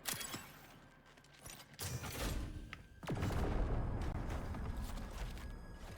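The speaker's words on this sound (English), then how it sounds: "Hear shots coming from inside hauler." Gunshots ring out in Marathon from inside a hauler, a few sharp cracks early, then a loud, dense burst of firing and rumble that carries on steadily, with no voices.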